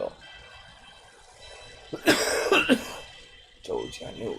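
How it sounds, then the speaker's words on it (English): A person coughs after smoking oil, giving a short burst of harsh, close coughs and throat clearing with some spluttering, followed by a few more rough coughs over a quiet background. "I cough, forgive me"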